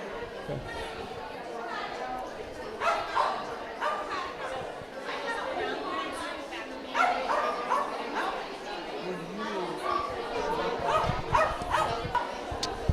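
Several dogs bark, yip and whimper at an animal shelter, a steady chorus of close and distant barking that runs throughout, with people chatting underneath.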